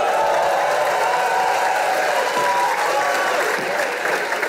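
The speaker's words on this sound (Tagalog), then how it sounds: "Palakpak kayo ng palakpak" An audience claps in dense, sustained applause that stays loud and even throughout, with a faint crowd murmur mixed in.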